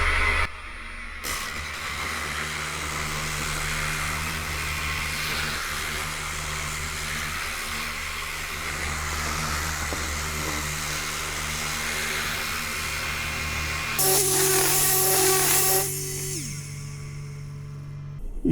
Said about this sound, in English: I'm going to put the speed of the sander on 5.